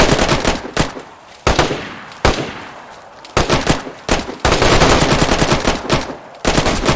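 Gunfire in the survival game DayZ: several loud, sharp bursts of shots with short gaps between them, close and dominant, and no talking over them.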